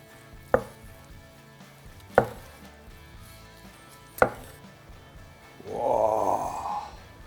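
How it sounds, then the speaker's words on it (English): A knife cuts into a double smoked Christmas ham with a caramel glaze crust: three sharp, separate chops spaced about two seconds apart, then a longer sawing slice, close and quiet. "time to slice in the ham"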